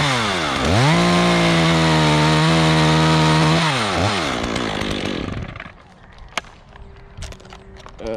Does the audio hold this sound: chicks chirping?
no